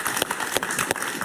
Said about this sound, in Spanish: Un gran aplauso para Osvaldo Hurtado.